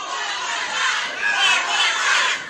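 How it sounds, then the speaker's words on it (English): Crowd at a cosplay wrestling event roaring and cheering, a loud, dense wash of voices swelling and falling, with shouts mixed in and no single speaker standing out. "This crowd is hot for cosplay wrestling."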